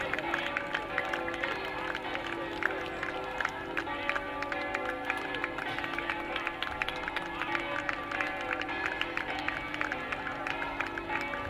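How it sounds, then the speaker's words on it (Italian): A crowd at a youth football tournament event applauds steadily, dense clapping and some cheering sustained throughout at moderate distance, with a murmur of voices mixed in. "Un grande applauso"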